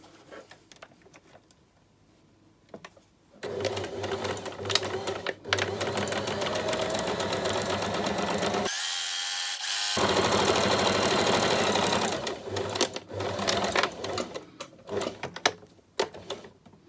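Sewing machine running a zigzag stitch along a fabric edge for a seam finish: a long continuous whirring run of over ten seconds, close and fairly loud, preceded by a quieter stretch, with no speech.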